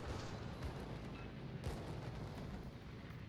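Anti-aircraft fire fills the air in a naval combat video game, a steady, rumbling wash of distant flak bursts and booms at moderate volume, continuous throughout.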